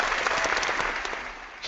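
Short burst of applause, a dense wash of clapping at moderate level that tapers off within under two seconds.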